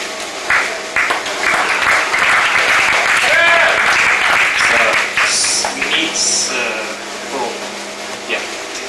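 Studio audience applause on the David Letterman show, 1988, swells and holds for several seconds, then fades into scattered claps as chatter and a low tone take over.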